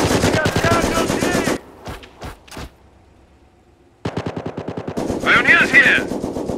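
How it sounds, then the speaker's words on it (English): Machine gun fire in the Company of Heroes Blitzkrieg mod on the Angoville map, loud close rapid bursts with a short pause, then more sustained firing, mixed with shouted battle voices. "We're taking fire! MG, here!"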